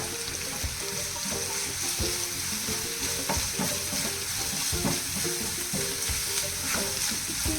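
Onions and ginger garlic paste frying for channa masala: a steady sizzle with repeated scraping and clinking of a spoon stirring in the pan, close and continuous.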